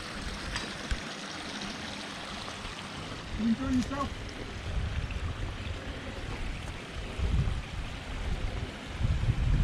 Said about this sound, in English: it's essentially water's going back into the basin